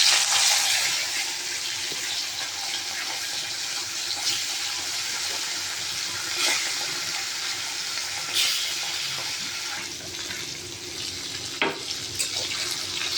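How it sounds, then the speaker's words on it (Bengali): Pieces of rui fish hiss and crackle in hot oil in a wok, a steady loud broadband sizzle with occasional sharper pops, continuous throughout with no voices. "কড়াইয়ের তেলটা গরম হয়ে গেছে, এবার একে একে মাছগুলো ছেড়ে দেবো।"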